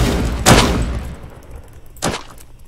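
Two gunshots in the Roblox game Da Hood, loud sharp cracks about a second and a half apart, each fading quickly, with no speech over them.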